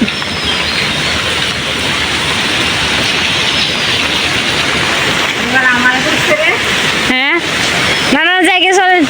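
Heavy rain and gusting wind from Cyclone Remal in Chittagong make a loud, continuous wash of noise, and people talk over it toward the end.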